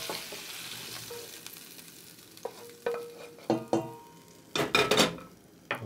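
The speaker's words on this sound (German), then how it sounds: "Fleisch ist jetzt angebraten von beiden Seiten" Meat for gyros soup seared on both sides in a pan, a soft steady sizzle broken by metallic scrapes and clanks of a utensil against the pan, the clatter growing busier toward the end.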